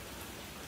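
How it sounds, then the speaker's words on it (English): Light rain falls outdoors as a faint, steady, even hiss lasting throughout, with no voices over it. "It's raining a bit out there, so if you hear that raining sound, please bear with me."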